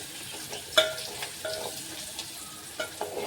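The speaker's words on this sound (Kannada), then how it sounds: "ಹಸಿಮೆಣಸಿನಕಾಯಿ ಒಂದು ಸ್ವಲ್ಪ ಫ್ರೈ ಆಗಲಿ ಮತ್ತು ಬೆಳ್ಳುಳ್ಳಿ ಕೂಡ ಸ್ವಲ್ಪ ಕಲರ್ ಚೇಂಜ್ ಆಗೋ ತನಕ ಫ್ರೈ ಮಾಡ್ಕೊಂಬಿಡಿ" Green chillies and garlic fry in a pan with a quiet, soft sizzle, stirred gently, with a faint metallic clink near the start.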